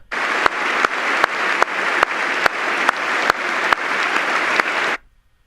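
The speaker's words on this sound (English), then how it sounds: "everybody's making themselves feel good by applauding for her" Applause from an audience greeting a widow whose husband is gone, a dense, steady wash of many hands clapping close and loud for about five seconds before stopping abruptly, with regular sharp clicks punctuating it.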